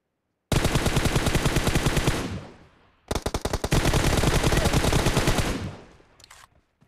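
Loud, close machine gun fire in a shooting video game, two long sustained automatic bursts of rapid even shots separated by a short pause, each trailing off into echo.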